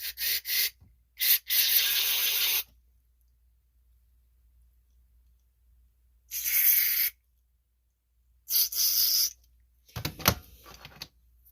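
Carb cleaner is sprayed into the small holes of a Briggs & Stratton carburetor from a 250cc leaf vacuum motor, in several short, sharp hissing bursts with quiet gaps and light clicks between them.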